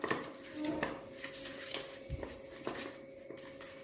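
Chili powder and jaggery stirred together in a bowl with a spoon, giving light clinks and scraping taps against the bowl, quiet and close, scattered unevenly with soft gaps.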